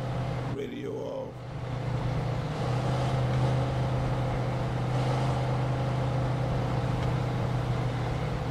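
A car driven in the video game Mafia 2 gives a steady, continuous low engine drone with a constant hum that holds at an even loudness throughout, with a brief shuffling disturbance near the start.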